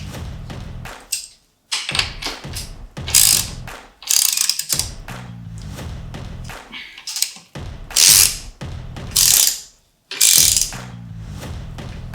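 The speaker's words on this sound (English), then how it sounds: "we're going to want to put some torque down to these nuts" A ratchet wrench tightens the rear wheel axle nuts on a Ghostcat F3 electric bike, with close, loud bursts of rapid clicking broken by short pauses and the odd thud.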